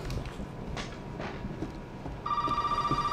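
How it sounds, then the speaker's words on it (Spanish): Telephone ringing in the video game Resident Evil 7 cuts in partway through, a bright, steady electronic ring that repeats to the end over quiet, shuffling game ambience. "¡Suena el teléfono!"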